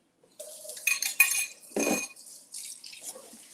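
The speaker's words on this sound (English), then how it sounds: "I know sometimes the silverware can get loud, so I'm going to try and be more delicate." Silverware and dishes clink and clatter during cleanup after cooking chicken skewers, with a brief splash or rush of water in the middle, fairly close and moderately quiet, with no talking.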